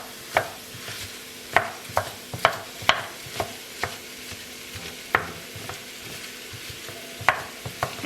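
Beef for ragu bolognese stirring and frying in a pan, with a low steady sizzle broken by a dozen sharp, irregular scrapes and clinks of the utensil, fairly close, with no talking.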